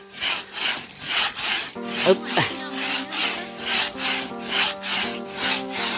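A hand saw cuts through wood in steady back-and-forth strokes, loud and close, with a brief grunt partway through.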